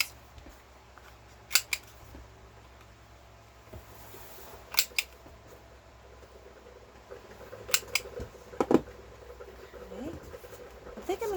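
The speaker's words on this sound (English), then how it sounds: "We can go ahead and round the corners on our journaling cards." A handheld corner punch rounds the corners of paper journaling cards made from scrap paper, giving a few sharp, close clicks and snaps scattered among quiet handling rustles.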